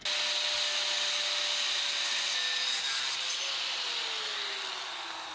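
A chunk of metal is sawn at a workbench, a 2-inch piece for a Corvette oil cooler fitting, with a loud close steady rasping cut that runs without a break and eases slightly toward the end.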